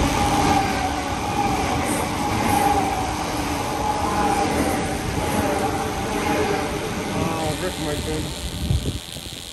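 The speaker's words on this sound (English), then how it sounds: "I thought there was a train coming." A train rumbles past nearby, wheels clattering and squealing over the rails in a continuous, loud rush of noise.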